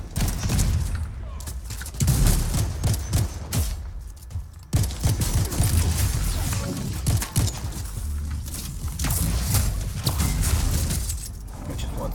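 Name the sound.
Elementus enemy firing at the player in the video game Anthem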